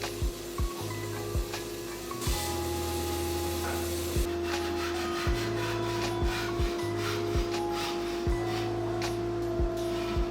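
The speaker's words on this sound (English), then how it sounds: "Then I started cutting the stair shape into it using the table saw for the long straight lines, and then the bandsaw and handsaw for the harder to reach areas." Wood being cut into a stair shape for a fingerboard park with a table saw, bandsaw and handsaw, giving a loud continuous rasping cut over a steady machine drone with regular knocks.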